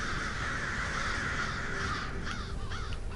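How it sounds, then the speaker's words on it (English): Crows caw in a PS4 video game after a whistle is blown to summon them, several harsh calls over a steady hum of game ambience. "You blow it, these crows come out"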